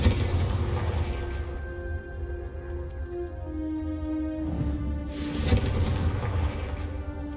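A Confringo fire spell explodes in Hogwarts Legacy: a dense, rumbling roar runs throughout, and a louder crackling burst flares up past the midpoint before settling back into a steady rush.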